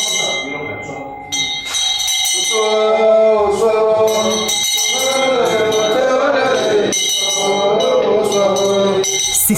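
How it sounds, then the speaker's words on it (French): Church bells ring steadily with sustained metallic tones and rich overtones, loud and continuous, fading in after a brief quieter opening, at Etia Bosamba, an Ewodi community in Canton Wouri Bwe. "C'est sur le son des cloches que nous convergeons ensemble vers le lieu sacré Etia Bosamba."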